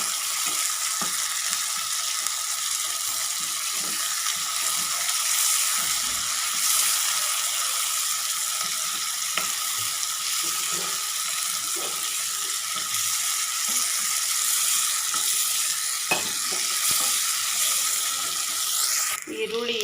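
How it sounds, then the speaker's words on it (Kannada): Onions for bitter gourd curry fry in a pan with a constant bright sizzle, broken by scattered scrapes and clicks of stirring, with occasional quiet speech in the background. "ಈರುಳ್ಳಿ ಹಾಕಿಬಿಟ್ಟು ಚೆನ್ನಾಗಿ ಬೇಯಿಸ್ಕೊಂಡು ಬಿಡೋಣ"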